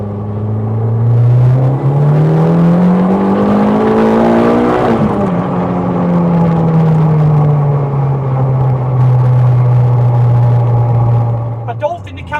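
A Ford Fiesta with a swapped turbocharged Honda VTEC engine accelerates hard, its loud engine note climbing steadily in pitch for several seconds, then easing back to a sustained drone before a brief lift at the end.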